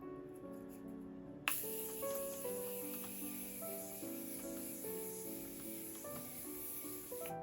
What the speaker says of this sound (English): Setting my face with the Morphe setting spray.